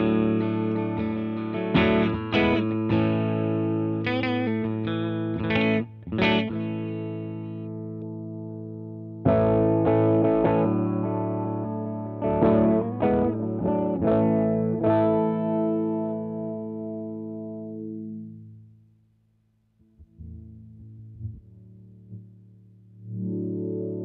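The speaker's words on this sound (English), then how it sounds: "when you hold the multi switch, it does a sweep of the filter" Distorted electric guitar chords through a Dr Scientist Sounds Dusk filter pedal sweeping the filter, the tone gliding and wah-like, played loud, then fading out near the end before a brief return.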